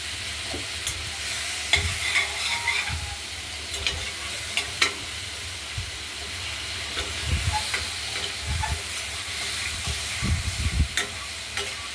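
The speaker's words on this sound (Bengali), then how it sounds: "এগুলোকে একটু ভাজা ভাজা করে নেব।" Small mourala fish seasoned with salt and turmeric fry in a kadai, giving a steady close sizzle broken by occasional scrapes and stirring clicks, with no talking.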